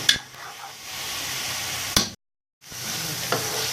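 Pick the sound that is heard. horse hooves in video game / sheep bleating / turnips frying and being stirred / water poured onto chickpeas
turnips frying and being stirred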